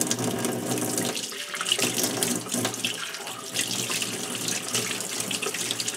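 Soap-and-water handwashing under a running tap at a sink: a steady splashing water stream runs for the whole stretch, close and fairly loud, with small shifts as hands move through it.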